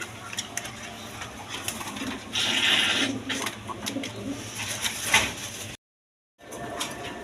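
Army pigeons in a coop coo and rustle nearby, a soft burbling call rising among shuffling and a bright clink, before a brief dead gap and more coop noise.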